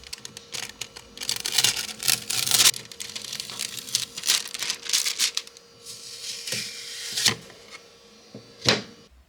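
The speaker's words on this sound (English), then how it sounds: "Let's peel off the foil and take a look." Hot foil comes off a surface engraved with an xTool M1 Ultra hot foil pen, a run of close crinkly peeling and crackling in uneven bursts with short pauses between, the sharpest snap coming near the end.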